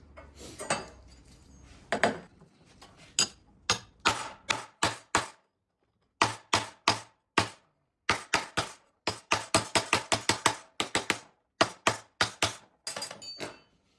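A hammer strikes a dinging spoon held against a vintage GM car fender skirt to knock out a dent, sounding as a long run of sharp metallic knocks. They come close and loud in quick bursts, with brief pauses between groups and no talk.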